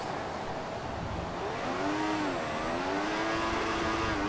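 A Formula One car engine in the video game F1 2014 revs up and down in sweeping waves, a loud continuous racing whine with pitch rising and falling, no voices.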